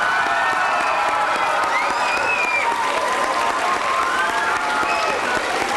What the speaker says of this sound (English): let's applaud ourselves for being here and under democracy